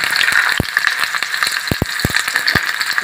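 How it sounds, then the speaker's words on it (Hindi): Chopped onions fry in hot mustard oil for poha, a steady bright sizzle with several sharp clacks of a spoon or spatula against the pan, loud and close, with no talking. "इसे हमें ज़्यादा नहीं भूनना है, बस इसका ट्रांसपेरेंट कलर आने तक इसे भूनना है।"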